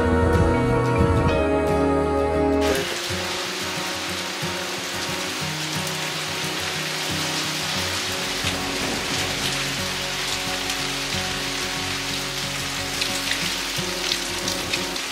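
Steady rain falls through dense forest on a trek near Kothaligad, a continuous close hiss of drops pattering on leaves and surfaces, with a brief louder mixed burst at the very start before the even downpour settles in.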